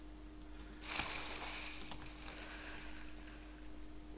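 A steady wash of water and motor-like rumble from a moving boat in the Game Guru video game, starting abruptly and continuing evenly, with a constant low electronic hum underneath.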